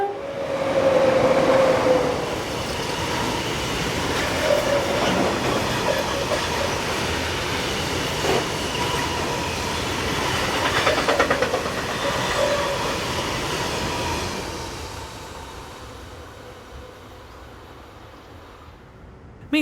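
A freight train hauled by a pair of DB class 143 electric locomotives rumbles past on a busy German mainline between Fulda and Bad Hersfeld, a loud sustained roar with wheel clatter that slowly fades toward the end.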